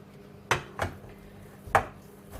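Chocolate cookie dough is moved into a baking dish, giving a few sharp scrapes and taps of a utensil against the dish, about four distinct knocks spaced irregularly in a quiet kitchen.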